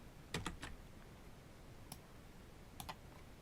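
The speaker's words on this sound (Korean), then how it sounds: "이 상태에서 키보드에 있는 한자 키를 누르면 됩니다." Keys on a computer keyboard, including the Hanja key, are pressed in a few quick, crisp clicks, a small cluster and then two more, in a quiet room.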